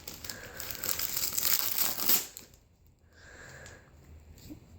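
Packaging on a toy carrier truck being torn open with a sustained rustling, crinkling rip that stops abruptly, followed by quieter handling and sniffing sounds.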